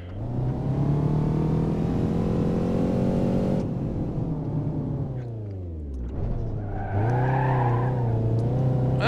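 Steady, loud engine drone from a heavy van lapping a track in the BeamNG.drive video game, its pitch rising and falling through gear changes as it corners, with a brief lift-off and then a hard surge of revs.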